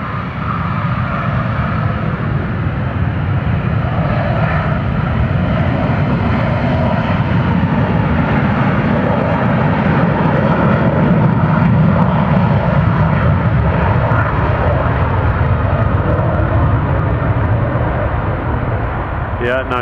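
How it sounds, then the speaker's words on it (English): A military jet powers up on runway 17 left at Austin-Bergstrom airport for a southbound departure, a loud, continuous engine roar that fills the whole stretch, with voices faintly underneath. "it is turning up onto 17 left, getting ready for a southbound departure"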